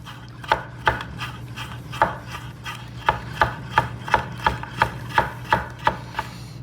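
A chef's knife chops through potatoes, sweet and yellow, on a board with crisp, sharp strokes, spaced at first and then quickening into a steady rhythm.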